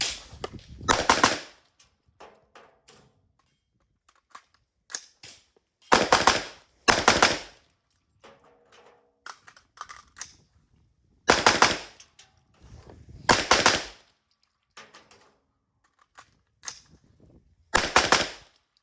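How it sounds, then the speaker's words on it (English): AR-15 rifle firing drill strings outdoors, loud close bursts of rapid shots in several clusters separated by pauses for magazine changes, with small handling clicks between. "We're gonna dump the mag and switch out. Put another mag in, put another 3 in them."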